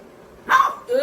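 A pet dog lets out a single sharp bark, loud and close, in an outdoor spot, followed by a brief whine-like yip.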